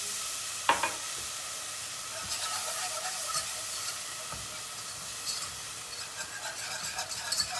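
Flour and oil roux being whisked with a glass of cold water poured in for a Turkish soup, a steady close scraping stir with soft sizzling wet bubbling and occasional clinks of the whisk against the pot, no talking.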